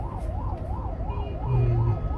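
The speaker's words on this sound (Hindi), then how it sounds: "ब्लॉक नहीं करूंगा तो एम्बुलेंस कैसे जाएगी?" An ambulance siren wails in a regular rising-and-falling pattern through Indian road traffic, heard steadily from inside a Land Rover Defender with engine and road noise underneath.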